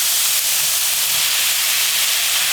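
Carrots and onions stir-frying in a pan, a loud, even hiss of steam and sizzle that holds steady without breaks and without any talk.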